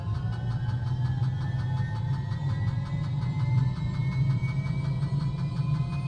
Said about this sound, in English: So we'll hit the starter. I'm monitoring the gas producer here as it spools up.